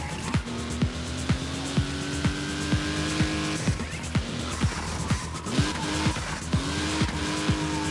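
Racer Hiroshi's powerful car speeding through an industrial park track, engine whining with a rising pitch and rapid repeating whooshes as it tears along, loud and close throughout.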